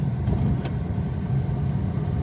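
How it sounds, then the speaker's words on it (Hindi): A Tata Tiago CNG car moving slowly in second gear at about 10 km/h with the air conditioning running, a low, steady engine rumble heard from inside the cabin, with no talking. "ये मैं सेकंड गियर में गाड़ी निकाल रहा हूँ 10 की स्पीड में"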